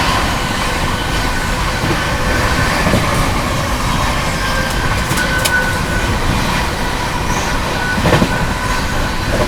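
The Mahabodhi Express races through Chunar Junction with a loud, continuous rumble and rattle of carriages, rhythmic wheel clatter and occasional metallic squeals, heard from on board.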